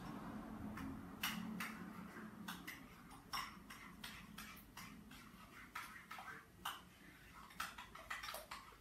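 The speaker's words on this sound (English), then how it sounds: "I'm making my own sauce, so. Stirring it all in." A spoon works through homemade pasta bake sauce in a pot, giving a series of quiet, irregular clinks and scrapes against the metal, fairly close and without talk.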